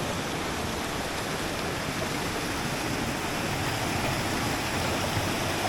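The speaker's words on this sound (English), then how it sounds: "Quite a nice little cascade series." Water tumbles down a small stream cascade near Klondyke Mill, a steady, close, full rushing wash that runs unbroken throughout with no voices.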